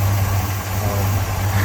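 A 1971 Pontiac GTO Judge engine idles with a steady, deep, even rumble, heard close and continuous with no voices.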